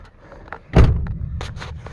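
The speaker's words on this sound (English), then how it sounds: "let me close the door." A single heavy thud of an old truck's door shutting nearby, followed by faint ticking and rustling.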